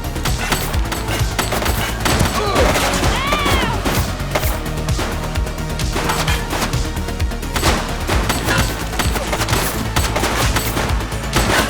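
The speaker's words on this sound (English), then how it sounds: "Shots fired! Suspect down." Gunfire rings out in the police video game The Precinct, with loud, rapid bursts of shots crackling densely over a busy game soundscape throughout.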